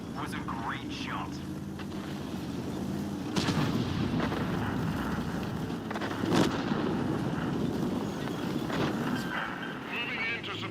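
Tank guns fire in the World of Tanks video game: a few sharp, booming shots burst over a constant rumbling battle backdrop.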